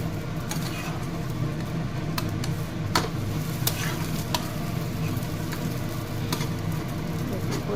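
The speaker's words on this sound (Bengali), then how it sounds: "যে আমার পরোটা হয়ে গেছে, এবার তাওয়ায় দিয়ে দেবো" Paratha frying on a hot tawa, a steady close sizzle with intermittent sharp crackles and pops across the whole stretch, a low hum running underneath.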